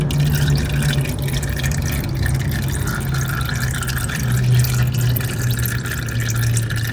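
Fluid draining from a 2012 Polaris Sportsman 400 HO ATV during a fluid change: a steady, continuous trickling and splashing stream, close and fairly loud, with no talking.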